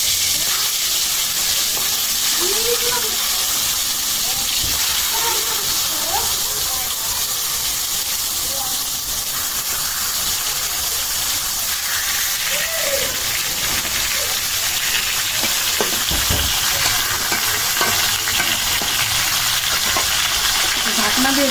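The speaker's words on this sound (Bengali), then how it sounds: "ঢাকনা দিয়ে ভাজলে তাড়াতাড়ি ভাজা হয়ে যায়" Ash gourd pieces coated with salt, chili powder and turmeric sizzle loudly in hot oil in a wok, a constant close frying hiss with a few brief, faint vocal sounds.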